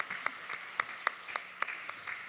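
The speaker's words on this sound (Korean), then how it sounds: "우리 하나님께 영광의 박수 올려드리겠습니다." Congregation clapping during a Korean Sunday church service: a steady, rhythmic run of separate claps, fairly faint and somewhat distant, with no voices over it.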